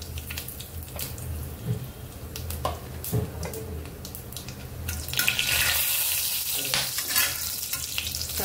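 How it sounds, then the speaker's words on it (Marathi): Whole spices (cumin, cloves, cinnamon and bay leaf) sizzle steadily in hot oil for paneer masala, a continuous close crackle that swells louder in the second half, with occasional stirring clinks and no talking. "आपलं तेल तापलेले, जिरं, लवंग, दालचिनी आणि तेजपत्ता"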